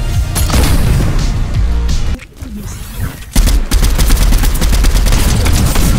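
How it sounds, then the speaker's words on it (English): Rapid gunfire from an Overwatch match bursts loud and close, with dense volleys, a short lull in the middle, then sustained shooting resuming without talk. "I hear gunfire."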